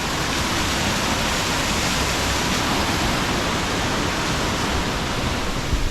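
Steady, dense rush of falling water from a waterfall near Pai, Thailand, loud and continuous throughout with no voices.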